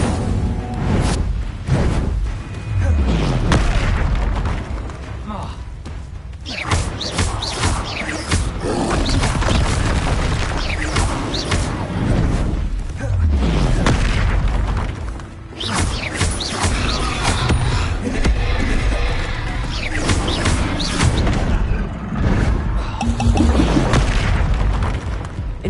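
Incendio fire spell blasts in Hogwarts Legacy, repeated booming bursts of flame and impacts over a dense, rumbling combat soundscape, loud and continuous with brief dips between volleys.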